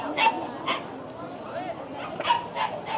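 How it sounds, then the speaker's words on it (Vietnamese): A Hmong bobtail dog at a village livestock market gives several sharp barks and yips, with people talking close by. "Con này là chó cụt đuôi này, chó mông ấy."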